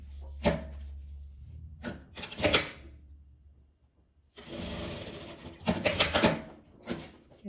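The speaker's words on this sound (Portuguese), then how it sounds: "E vou passar uma costura" A sewing machine stitches fabric scraps in short close bursts of rapid mechanical whirring, separated by quiet pauses and a few handling knocks.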